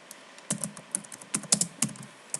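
Fingers tap out a short, uneven burst of keystrokes on a computer keyboard while searching in a game, soft clicks clustered in quick runs with brief pauses, close and fairly quiet, no voices.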